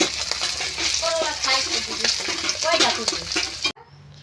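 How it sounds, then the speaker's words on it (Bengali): Fish frying in a pan, a steady broadband sizzle with soft crackles running close and fairly loud for several seconds before cutting off abruptly. "এটা হচ্ছে গুবলুর জন্য মাছ ভাজা"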